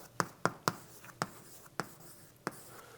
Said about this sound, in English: I'm going to write this